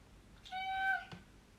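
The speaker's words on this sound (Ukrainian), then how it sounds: "котик мій вам підспівує" A single domestic cat meows indoors, close and clear: one drawn-out, rising-then-falling call of about half a second in an otherwise quiet room.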